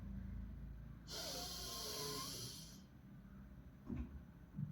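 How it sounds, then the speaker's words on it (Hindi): A long, deep breath drawn in through the nose during a breathing exercise, a close, steady airy hiss lasting nearly two seconds in a quiet room, followed by faint small shuffles. "सो मैंने अपनी साँस भरी, साँस भरते वक़्त पेट बाहर, नाक से साँस भरना है"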